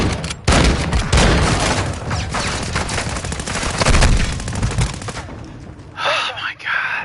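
Dense game gunfire in Modern Warfare II on PS5: rapid bursts and volleys of shots crackle almost nonstop for five seconds at close range, then thin out as a voice speaks briefly near the end.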